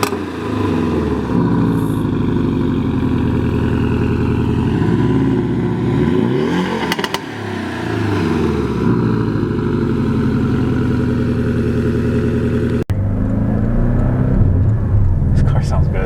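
A Porsche Cayman 718 GTS with a 2.5-litre flat-four engine is driven hard, giving a steady, loud engine drone with rising and falling pitch through gear changes. The engine stays prominent beneath someone talking throughout.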